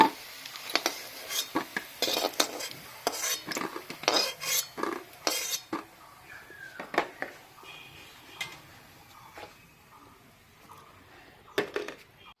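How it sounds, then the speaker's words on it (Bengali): Fried masoor dal fritters lifted from a pan: a ladle scrapes and clinks against the metal in irregular bursts over a faint sizzle, fading to sparser taps toward the end with no talking. "বড়া ভাজা হয়ে গেছে আমি তুলে নিচ্ছি"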